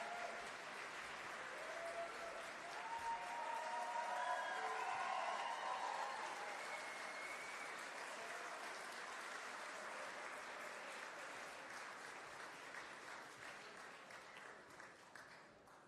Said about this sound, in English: another round of applause for our exceptionally talented musical guests